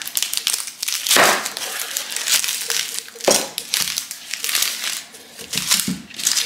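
A knife cuts up an onion on a board, with dry crunching, crinkling slices and papery rustles in irregular strokes close by, with faint background voice.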